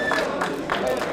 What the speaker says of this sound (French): des applaudissements encore une fois pour Ludovic,